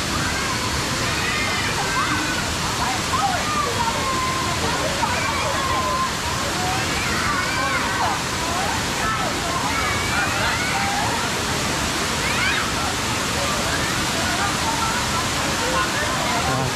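Kuang Si waterfall in Laos roars steadily and loudly throughout, a dense rushing wash of falling water with crowd voices mixed in.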